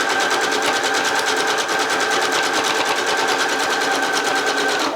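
A sewing machine runs steadily the whole time, topstitching along fabric at a close, even, rapid stitching rhythm with no pauses and no voices.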